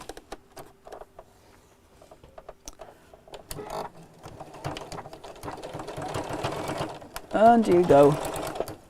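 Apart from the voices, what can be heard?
sewing machine stitching a chair cushion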